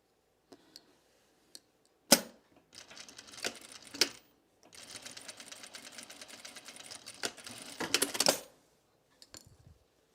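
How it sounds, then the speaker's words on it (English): A sewing machine edge stitching a blouse, starting with a few clicks and short bursts, then running in a steady, close mechanical whir for several seconds before stopping with light clicks. "And then I edge stitch it."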